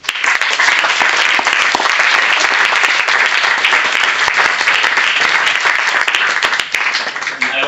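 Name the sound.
audience applauding the volunteers at a closing ceremony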